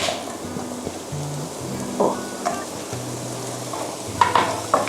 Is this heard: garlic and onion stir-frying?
yes